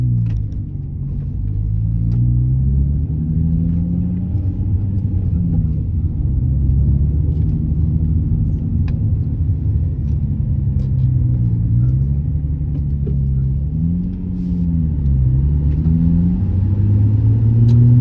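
A 2004 Nissan 350Z engine idles steadily and close for a long stretch on a hot day, a deep constant rumble with slight wavering pitch as it runs.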